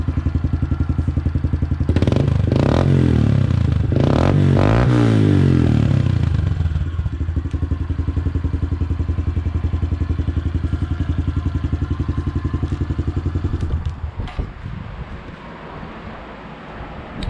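A Honda CRF110F dirt bike with a new aftermarket exhaust revs hard several times, rising and falling in pitch, then settles into a loud steady idle before cutting down near the end.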